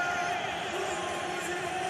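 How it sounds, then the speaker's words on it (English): MMA arena crowd at GFC 20 cheering loudly as Uzbek fighter Nursultan Raziboyev is presented, a dense, steady roar of many voices filling the hall without pause. "the crowd absolutely on their feet"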